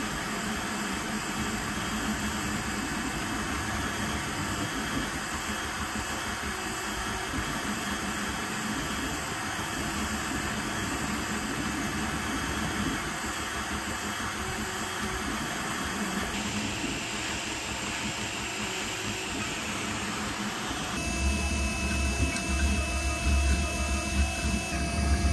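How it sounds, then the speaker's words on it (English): A VzBot 330 Mellow kit 3D printer runs a print with a steady, close whir of fans and motors and a constant high-pitched whine, with no talking. "let's go ahead and see this thing printing"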